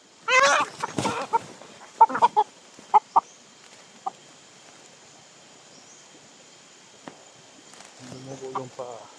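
A white chicken clucks in short, sharp bursts close by, several quick clucks early on followed by scattered single calls and near-silence, with a person talking briefly near the end.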